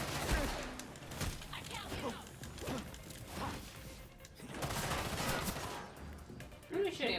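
Gunfire in the Gotham Knights video game rattles in repeated bursts and single shots throughout, mixed with thuds and crashes of combat, fairly loud and close.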